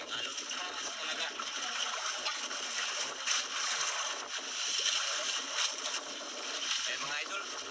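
Strong wind and waves around a small boat at sea, a steady rushing roar with washes of water and periodic surges, loud and continuous, with voices talking faintly underneath.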